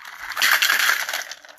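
Ice cubes clatter and crunch as they tumble into a glass, a short burst of bright clinking up close.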